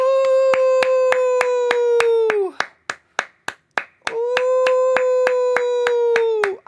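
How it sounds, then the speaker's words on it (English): A round of applause in a steady, fast rhythm of sharp claps plays over a sustained musical tone that bends downward, breaks into a few isolated slaps, then resumes, loud and close. "Everybody, a round of applause."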